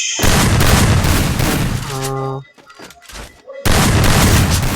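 Shotgun gunfire in the mobile game Free Fire: loud, dense blasts, then a short tonal chime and a quieter gap, then the heavy firing starts again.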